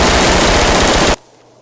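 Rapid, loud automatic gunfire in a multiplayer shooter's conquest mode, a dense sustained burst that cuts off abruptly, leaving a faint low hum.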